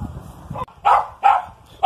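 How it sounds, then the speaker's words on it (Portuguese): A pet dog barks three times in sharp, evenly spaced bursts from nearby, with no voices over it. "meu filhinho tá latindo do outro lado"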